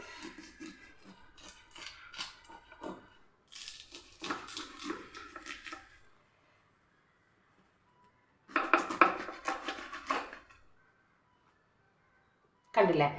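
A knife cuts young, tender jackfruit into small pieces, producing intermittent clusters of crisp, clattering chops at close range, grouped in a few bursts with quiet gaps between them.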